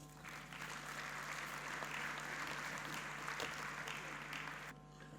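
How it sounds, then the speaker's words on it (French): An audience claps after a lecture on justice recommendations in the DRC, a dense, steady wave of applause filling the hall for about five seconds before cutting off abruptly. "Je vous prie d'applaudir encore très fort le professeur."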